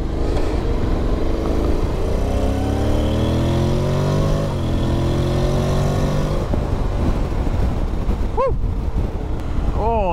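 A 2022 Honda X-ADV scooter in sport mode accelerates on the road, its engine note climbing and shifting through gears under heavy wind rush, then easing off as faint passing traffic and a brief high whine appear near the end.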